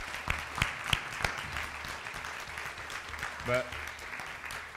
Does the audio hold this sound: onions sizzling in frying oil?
no